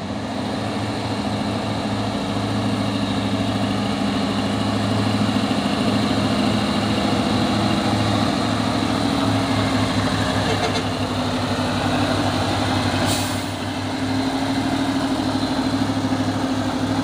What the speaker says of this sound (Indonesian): Masuk lagi dua unit truk Puso ini mau menanjak ya.